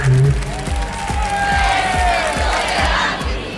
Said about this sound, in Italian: questo è l'applauso per tutti voi che siete arrivati alla giornata ispettoriale